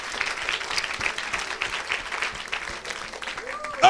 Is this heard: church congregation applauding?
yes